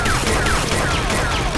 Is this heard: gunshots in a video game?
yes